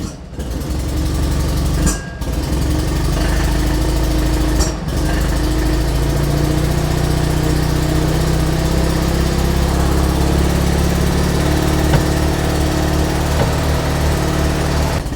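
An Invacar engine idles steadily just after its choke is adjusted, a loud continuous buzzing drone, close and alone, with a couple of brief dips early on.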